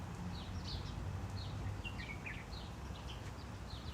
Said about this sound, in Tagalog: Ay, oh, kadaming ibon.